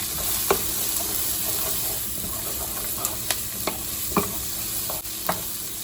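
Tomatoes and other gravy ingredients for paneer butter masala sautéing in a pan: a constant close sizzle broken by occasional quick spatula clicks and scrapes, with no speech.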